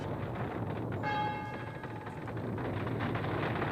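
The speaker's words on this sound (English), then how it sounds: "every church bell in San Francisco began ringing" A San Francisco church bell rings out briefly over a steady, dense background rumble, its tone lingering for about a second before fading back into the noise.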